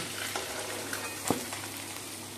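Fish heads sizzle steadily in hot oil in a pan, stirred with a spoon, with a single sharp clink partway through the continuous frying hiss.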